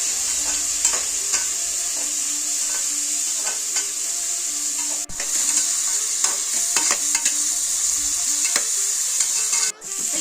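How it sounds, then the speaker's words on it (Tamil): Onions sizzle steadily in a hot pan for tomato rice, a close continuous frying crackle with occasional scraping strokes of a stirring utensil, no voices. "இப்போ வெங்காயம் நல்லா வதங்கிட்டோம்"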